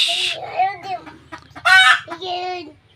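Chickens being fed by a boy cluck and squawk close by in short, loud bursts with a brief crow-like call, over a faint low rumble.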